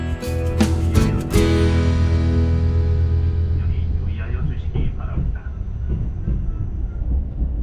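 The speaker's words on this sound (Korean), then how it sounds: "부전발 청량리행 새마을호 4208 열차가 정시에 부전역을 출발합니다" A Saemaul-ho passenger train departs Bujeon station, loud wheels and carriage rumble building with a few sharp clanks early on, then fading into a rolling, rhythmic clatter, with an announcement-style voice heard alongside.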